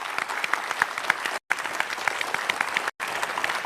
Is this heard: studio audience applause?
yes